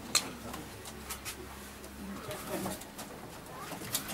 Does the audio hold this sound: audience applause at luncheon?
no